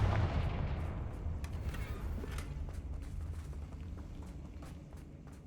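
A Confringo fire spell explodes in the video game Hogwarts Legacy, a heavy booming blast at the start that rolls off into a long fading rumble scattered with crackles and light footsteps.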